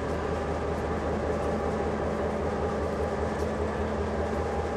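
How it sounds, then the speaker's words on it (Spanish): A working train idles at a run-down railway station in Monte Caseros, Corrientes, producing a steady, loud diesel engine rumble with a constant low hum and droning tones, unbroken throughout. "ese tren está en funcionamiento, lo están escuchando"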